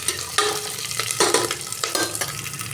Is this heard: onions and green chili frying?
yes